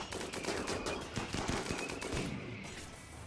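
Rapid gunfire from a RimWorld battle, a tribal fight in the game's endgame, crackling in dense overlapping bursts that hold a steady level throughout with no talk.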